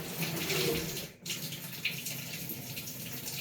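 Water rushes steadily into a washing machine after start, a continuous hissing flow with one brief dropout midway, close and moderately quiet.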